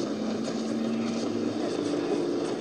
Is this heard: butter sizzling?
no